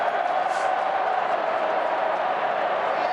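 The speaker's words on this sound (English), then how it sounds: "This is the crowd who have suddenly found voice." Big football crowd cheering and roaring at an AFL match between Fremantle Dockers and Geelong at Patersons Stadium, a steady sustained wash of voices filling the stadium with no breaks.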